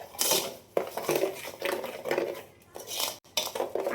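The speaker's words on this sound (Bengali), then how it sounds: "চিনির সঙ্গে তালের পাল্পটাকে আমি প্রথমে একটু মিশিয়ে নেব" A spoon or spatula clinks and scrapes against a bowl while palm fruit pulp is mixed with sugar, in irregular close-up bursts of metallic scraping with brief pauses, no talking.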